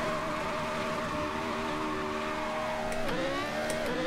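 Formula Renault 3.5 single-seater racing around a track in Assetto Corsa, its engine holding a steady high-pitched whine before a quick downshift dip and recovery, with faint tire scrubbing near the end.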